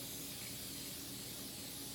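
A steady, continuous hiss of a cooking spray can over eggplant runs for about two seconds, fairly close and even in level with no voices.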